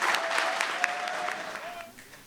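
Audience applause at a student eloquence contest for the third-place winner, moderate clapping that gradually fades, with a faint tone and some crowd noise beneath.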